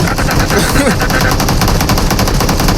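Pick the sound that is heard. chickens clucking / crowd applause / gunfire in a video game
gunfire in a video game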